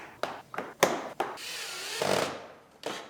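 Plastic tabs on the lower grille of an Acura RDX snapping into place: several sharp clicks and knocks at close range, followed by a brief rustling scrape and one final snap, no talking.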